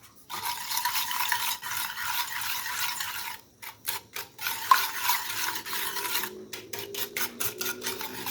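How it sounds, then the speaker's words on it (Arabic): Yogurt, oil and eggs are whisked together in a bowl, giving a steady scraping, rasping stir close by that breaks into quick repeated strokes toward the end, with no talking. "غادي نخلطوه مزيان حتى ينسجم ليا الزيت مع الياغورت مع البيض"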